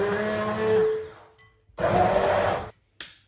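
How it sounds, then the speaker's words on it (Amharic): A kitchen blender whirs through Greek yogurt thinned with a little water, running in a loud steady burst, cutting off, then roaring again before a brief final pulse. "ከዛ በደንብ አድርገን እንፈጨዋለን።"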